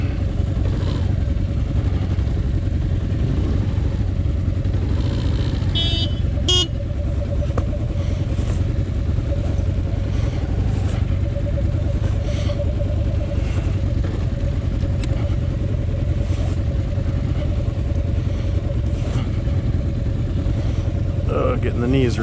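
Motorcycles creeping along at walking pace during a low-speed balance and control riding drill, with a steady low engine drone and occasional clatter, heard under continuous talk from people nearby.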